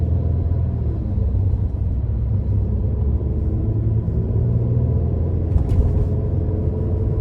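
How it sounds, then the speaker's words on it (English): Inside a 2014 Mercedes-Benz SLK 350 convertible on the move, a low, continuous exhaust rumble and road drone hold steady throughout, heard from the cabin with no talking. "one thing I love about this car in particular is the exhaust note"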